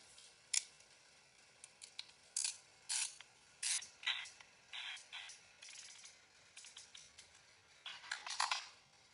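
A hand tool clicks and ratchets in short repeated bursts while screws are driven during assembly of a Prusa Core One 3D printer, the crisp, quiet mechanical clicks close by and irregular, with pauses between turns.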